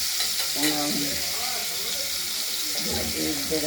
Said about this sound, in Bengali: আমরা মাছগুলোকে ভেজে নেব